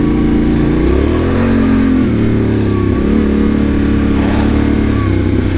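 A Yamaha Tenere 700 motorcycle exhaust rumbles steadily while riding, loud and close, its pitch rising and falling as the engine revs through gear changes, with light voice sounds blended underneath.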